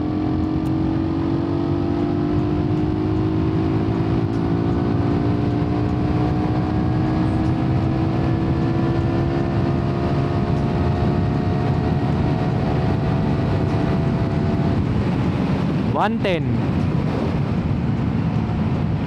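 A Suzuki Raider 150 motorcycle pulls away at full throttle, its engine note climbing steadily in pitch through a long, loud, continuous run, with a brief gear change or throttle blip near the end.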